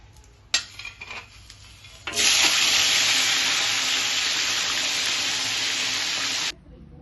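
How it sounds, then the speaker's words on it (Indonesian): A few clinks and clatters, then a loud, steady sizzle as salted fish hits hot oil over low heat and keeps frying before cutting off abruptly. "Sekarang langsung kita goreng aja dengan api kecil ya."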